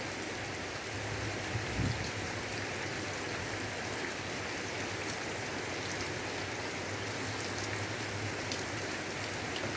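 Heavy rain falls during flash flooding, a dense, steady hiss of drops pattering on surfaces that continues unbroken throughout.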